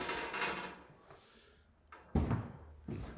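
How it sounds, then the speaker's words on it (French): A glass sliding door in an apartment is slid along its track, giving soft rolling scrapes followed by two sharper knocks as it stops, close by in a quiet room with no talking. "Vous avez une porte coulissante ici"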